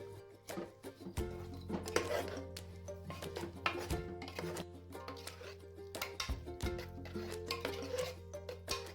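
Sarson ka saag (mustard greens) being stirred and mashed in a pot, with repeated scraping and knocking strokes of a utensil against the metal, close and fairly quiet, no talk.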